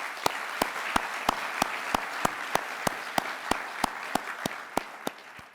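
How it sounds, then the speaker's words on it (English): An audience at a State of the City event applauds three mayors, sharp even claps landing in a steady rhythm of about three per second from start to finish. "Let's all have a round of applause for them."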